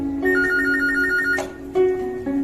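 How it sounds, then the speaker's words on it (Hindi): A telephone rings with a steady electronic warble in repeated bursts, loud and close, with brief pauses between rings and no voices. "अभी वो तलौद में डॉक्टर कांति पटेल के घर स्वामी बापा के फोन का इंतजार कर रहे हैं।"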